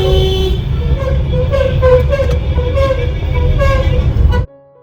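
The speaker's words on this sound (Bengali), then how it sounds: "কলকাতায় থাকলে গাড়ির এই প্যাক প্যাক আওয়াজ রোজ শুনতে শুনতে সত্যিই খুব বিরক্ত হতাম" Car horns honk in Kolkata traffic, loud sustained tooting layered over a low engine rumble, continuing for several seconds before cutting off abruptly.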